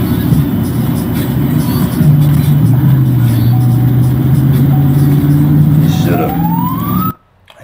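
A car flees police at high speed, a steady vehicle roar filling the clip with a wavering siren-like tone rising near the end before it cuts to near silence.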